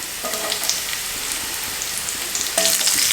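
Sliced onions dropped into hot oil with garlic in a pan for Indian-style veg pasta, giving a loud, steady, close sizzle with a brief clatter at the start and a sharper burst near the end.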